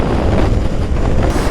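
Steady, loud wind roars and buffets the microphone of a rider on a motorcycle touring trip in India, with no speech.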